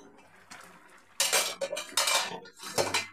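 A metal lid is lifted and knocked against a pot of simmering masoor dal with bitter gourd, giving a few sharp clanks and scrapes in quick succession after a quiet start.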